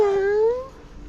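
A cat's single drawn-out meow, loud and close, with a falling then gently rising tone that trails off after about a second.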